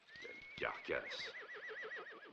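A horse whinnies close by, a single long neigh that rises and then wavers in a trembling vibrato, with a soft clatter of movement at the start.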